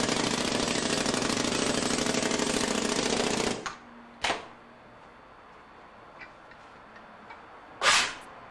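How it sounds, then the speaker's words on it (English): An air rammer packs clay-bonded foundry sand into a mold in a loud, rapid pneumatic hammering burst lasting several seconds, then stops, leaving a quiet hiss with a few sharp air blasts. "He uses an air rammer to compact the sand."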